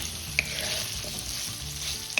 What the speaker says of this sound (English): Now you have to keep frying them.